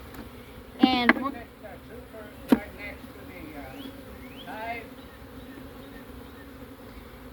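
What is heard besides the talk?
honey bees buzzing during a hive inspection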